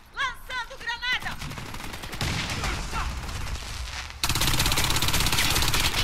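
Rapid Mini Uzi automatic fire in the shooter game Warface, dense continuous bursts that grow louder toward the end, with a voice speaking over the opening.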